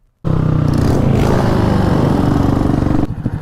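A motorcycle with a broken exhaust runs loud and close, a rough, rattling drone that holds steady for about three seconds before cutting off.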